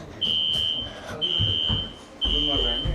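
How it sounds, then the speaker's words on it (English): A smoke alarm sounds a steady high electronic tone in three long repeated bursts, loud and close, with a voice speaking underneath between and during the beeps. "the alarms are going off. This is not good."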